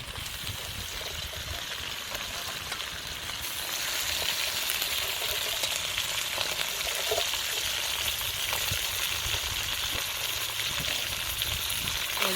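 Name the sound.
crab frying with chilies in a pan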